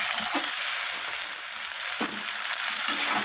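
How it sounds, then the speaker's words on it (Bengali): Onion and tomato frying in oil for an egg omelette curry give a steady, close, bright sizzle with a couple of soft clunks from the pan. "টমেটোটা দিয়ে পেঁয়াজ আর টমেটোটাকে ভালোভাবে ভেজে নেব তেলের সাথে"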